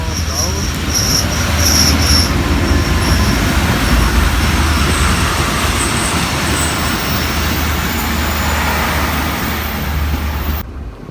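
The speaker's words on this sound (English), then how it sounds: "right now one train is going down coming from Lahore" A train from Lahore rolls through Dabiji railway station in Sindh, Pakistan, a loud, continuous low rumble with steady rattling and high squealing tones, sustained near the listener before cutting off.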